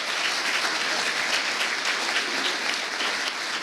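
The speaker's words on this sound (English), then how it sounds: "if you'd like to applaud now for your candidates in District 25" An audience at a 2022 Republican primary candidate forum for District 25 claps steadily and evenly, dense applause with no talk over it.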